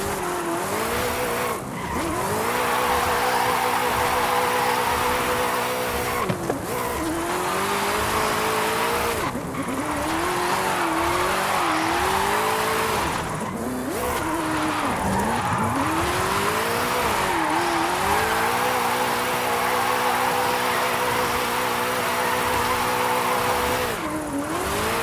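In the Forza Horizon 5 video game, a car drifts through a drift club run. The engine roars continuously while the tyres squeal in long, wavering screeches, loud and unbroken for the whole stretch.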